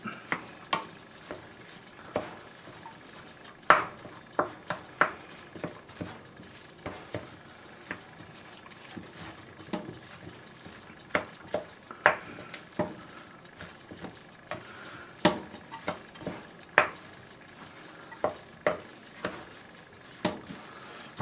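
Minced meat mixture for Swedish cabbage pudding is stirred and mixed in a pan, giving repeated sharp scraping and tapping strokes at an uneven rhythm over a faint background hum, close and moderately loud, with no talking.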